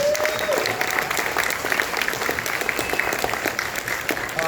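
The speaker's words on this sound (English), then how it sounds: "Let's give them a round of applause." A theater audience applauds a four-piece live band after a performance of a musical, a dense, steady wash of clapping that holds at full strength throughout.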